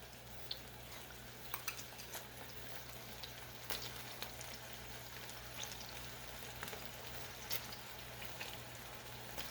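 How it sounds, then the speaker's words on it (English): Mustard sauce for smoked pork chops simmers in a pan, a faint, steady bubbling hiss with light scattered pops, no talking. "this is just going to simmer a little bit longer"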